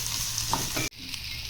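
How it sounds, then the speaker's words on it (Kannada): Onion frying with masala in a pan over medium flame for mutton curry, a steady close sizzle with stirring scrapes, briefly cut off before the frying resumes. "ಈಗ ಮಸಾಲೆ ಹುರ್ಕೊಳ್ಳುವಾಗಲೇ ಇದಕ್ಕೆ 1 ಹಿಡಿ ಈರುಳ್ಳಿ ಹಾಕೊಂಡ್ಬಿಡಿ."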